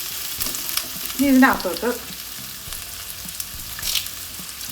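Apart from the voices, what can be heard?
onion sautéing in a pan until brown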